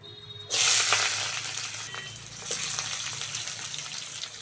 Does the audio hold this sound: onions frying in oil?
yes